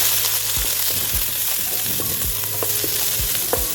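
Chopped onion and garlic fry in hot oil for a zucchini dish, giving a steady close sizzle with soft stirring scrapes and spoon clinks throughout, and no voices.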